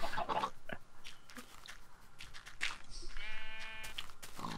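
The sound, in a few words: sheep bleating in the video game Minecraft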